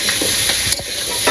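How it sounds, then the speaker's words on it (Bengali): Potatoes frying in a pan in a simple village kitchen, a steady close sizzle with stirring scrapes and a brief clatter midway. "এখন দিছে দাঁড়াও এই আলু ভেজে দিবে"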